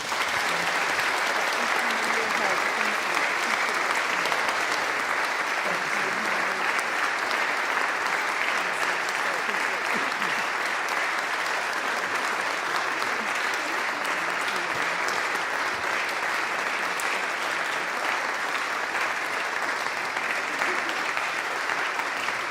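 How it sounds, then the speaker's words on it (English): Sustained, dense applause from a concert audience after a choir award, steady and fairly loud throughout with no talk over it. "So let's give them a round of applause."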